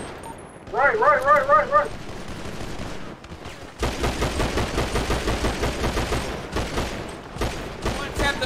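Rapid bursts of gunfire ring out during a GTA roleplay street fight, repeated shots crackling steadily under shouted talk, with a short burst early on and a sustained run of shots later.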